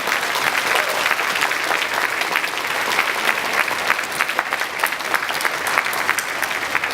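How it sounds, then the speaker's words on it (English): Sustained, dense applause from a large audience at a high-school graduation ceremony, honouring the parents and teachers, holding at an even, full level for the whole stretch without any talk. "please look at them now and give them a round of applause"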